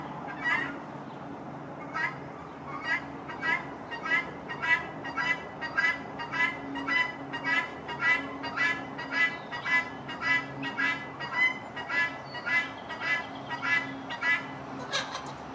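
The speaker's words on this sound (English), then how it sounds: "here come the chickens" Chickens make rapid, rhythmic honking calls that repeat steadily, a loud, insistent chorus at close range.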